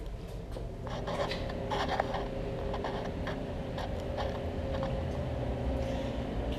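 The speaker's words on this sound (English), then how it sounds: "Got to buff the old paint out." Old paint on a 1960 Pontiac being buffed: a steady, faint rubbing hiss with light ticking and scuffing strokes running throughout, with no voices.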